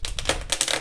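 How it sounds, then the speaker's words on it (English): A deck of Copag plastic playing cards is shuffled close by, making a rapid crackling flutter of riffled cards in a short burst. "that was a bad shuffle"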